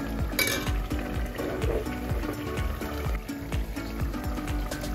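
A pot of Hyderabadi mutton dal gosht with a little garam masala is stirred steadily, a spoon scraping and knocking in a repeated rhythm over a constant sizzling hiss, close and fairly loud.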